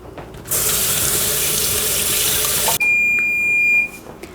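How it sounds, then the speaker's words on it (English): Water gushes from a kitchen sink tap as hands are washed, a steady loud splashing rush for about two seconds, then a thinner stream continues alongside a high electronic beep before the flow shuts off. "I'm going to quickly wash my hands"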